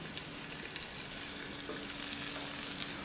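Chicken fries in oil in a Saladmaster pan, giving a steady, dense sizzle and crackle with faint scattered pops throughout, close and continuous.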